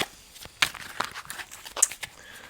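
Tarot cards being shuffled by hand, quick papery riffles and crinkly slaps in short uneven bursts, close and fairly quiet with no talking.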